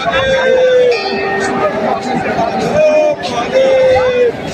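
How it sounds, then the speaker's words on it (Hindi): A large crowd of pilgrims mills around the Kedarnath temple, a steady dense hubbub of many overlapping voices with some clearer nearby speech cutting through. "और ये देखो पूरी भीड़ है।"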